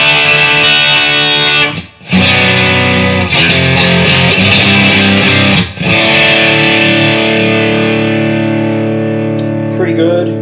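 Electric guitar played through a boost pedal and reverb, sounding loud and thick with sustained chords ringing out, two brief gaps, and a trailing reverb tail.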